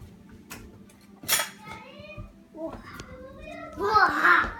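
A toddler clinks dishes and cutlery while emptying a dishwasher in a home kitchen, with a few light clatters between bursts of the child's babbling speech.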